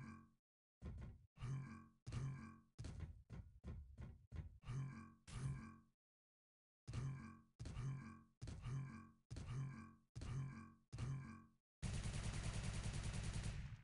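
Rapid bursts of gunfire from a WarCup match on the Toptuk-3 map, in clustered volleys with short pauses between them, then a sustained, dense stretch of firing at the end, loud and close with no talk.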